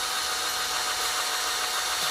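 Power drill running while a cold air intake is installed on a 2012 Toyota Camry, a continuous, even high-pitched whine that holds steady and close with no talking.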